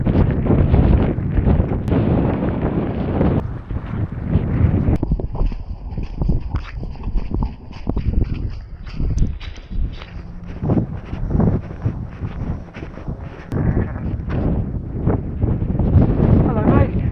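Wind gusts across hikers on the Coast to Coast walk in the Dales near Orton, buffeting the microphone with rough, uneven roaring while people talk over it.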